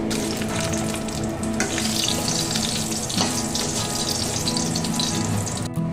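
Salt and dried red chillies fry in hot oil for a dry fish mash, giving a loud, dense and continuous sizzle with crackling bursts, heard up close without speech.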